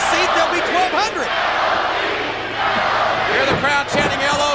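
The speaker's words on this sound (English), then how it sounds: "Hear the crowd chanting LOD, LOD" A large wrestling arena crowd at a 1997 WWF Shotgun Saturday Night show roars and chants in unison, with rhythmic rising shouts and whoops layered over a constant dense crowd din.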